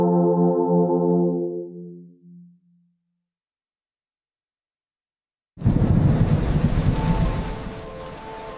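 Steady rain with rolling thunder rushes in loud and close after a sustained musical tone fades into a few seconds of silence.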